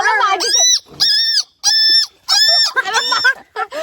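A voice imitates a bird with a series of shrill, warbling calls in short repeated bursts, close and loud.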